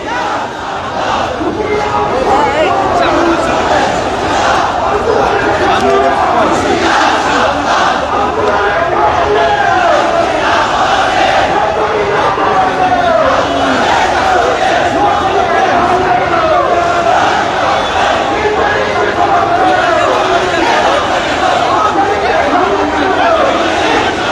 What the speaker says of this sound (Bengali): হামলার প্রতিবাদে চলছে এই বিক্ষোভ মিছিল